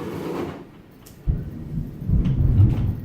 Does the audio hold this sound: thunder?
yes